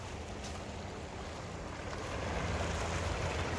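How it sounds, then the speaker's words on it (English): A small brook flows near a reservoir trail at sunset, a steady soft rushing and gurgling of water that grows slightly louder toward the end, with no voices. "let's cross over the brook"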